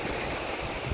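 Surf at a Hawaii beach gives a brief, dense rush of breaking water with a breezy hiss.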